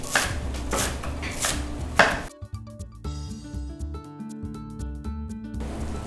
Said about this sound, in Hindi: जो ये वाला हिस्सा है इनको अच्छे से धोना है आपने और फिर बारीक काट लेना है।